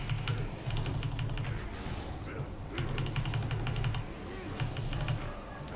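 Rapid clicky keystrokes on a 6G V2 computer keyboard come in bursts over a steady low hum, close to the mic, with short pauses between flurries.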